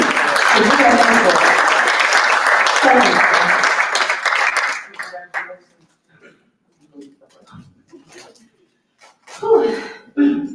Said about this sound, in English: could you all please give yourselves a round of applause for being here today